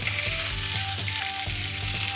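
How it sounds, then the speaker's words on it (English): Raw sausages sizzle loudly and steadily in a pan, a dense close hiss with faint low thuds and a few brief tonal squeaks running underneath. "So why don't we go ahead and start cooking the sausages."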